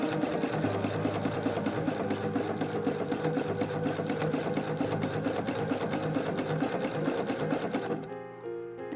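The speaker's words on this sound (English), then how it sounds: "removing some of the needles to let the machine do the stretch stitch" A sewing machine runs a stretch stitch on leggings fabric for a doll-sized garment, whirring steadily with a rapid, even stitching rhythm, close and alone, before stopping abruptly near the end.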